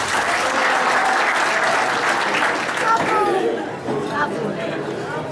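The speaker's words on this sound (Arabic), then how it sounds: "صفقوا عليه" Audience applause at a New Year's Eve party show, a dense wash of clapping that runs steadily throughout with crowd chatter and voices mixed in, dipping slightly near the end.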